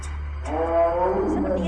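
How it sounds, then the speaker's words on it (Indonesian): A tiger's deep, rumbling roar swells in the middle and fades over a low steady hum. Faint clicks sit in the background. "Sepertinya suara harimau."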